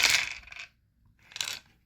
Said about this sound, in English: I'll roll 6 dice here.